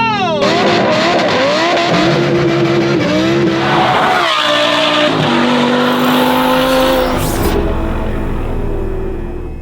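Lamborghini Huracan STO V10 with a Valvetronic Designs exhaust revving hard and loud, with rising and falling engine pitch, a brief dip and a tire-squeal edge, echoing off buildings.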